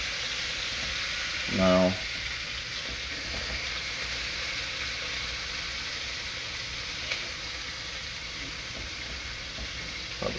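Steady hiss of food browning in a hot pan over medium heat, a constant sizzle throughout with a brief spoken word near the start.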